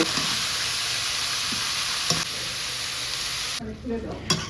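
Chopped cabbage frying in oil spiced with dried red chillies and crushed ginger, a loud continuous sizzle with occasional stirring knocks, cutting off abruptly near the end.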